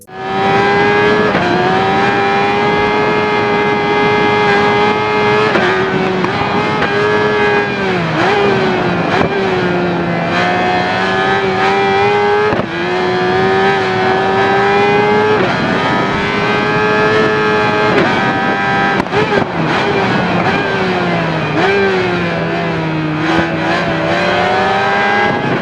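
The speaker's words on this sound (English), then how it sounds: "The 1985 GSX R750 is considered one of the most important motorcycles in Suzuki's history" A 1985 Suzuki GSX-R750 sport motorcycle revs hard in the RIDE game, its engine screaming up through the gears with brief dips at each shift, loud and close throughout.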